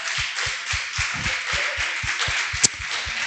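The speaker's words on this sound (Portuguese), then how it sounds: "vamos dar uma salva de palmas ao nome do Senhor" A church congregation at a Wednesday worship service claps together in a steady, even rhythm, with about a dozen evenly spaced claps over a continuous hiss of room noise.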